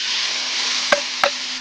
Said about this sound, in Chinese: 土豆丝下锅，好浓的锅气